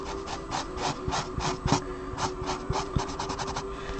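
A chisel-tip marker rubs orange colour into sweatshirt sleeve fabric, making a steady close scratchy rasp with quick repeated strokes and no talk.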